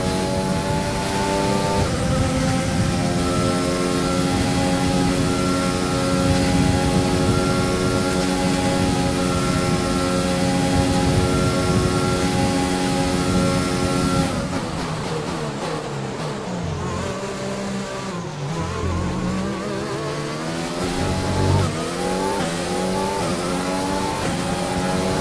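Formula 1 cars race in the F1 2020 video game at the Belgian circuit, one high-revving engine whining steadily through upshifts and downshifts, loud and continuous without speech.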